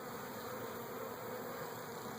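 A steady, faint hum of many honey bees buzzing at a beehive, continuous with no talk.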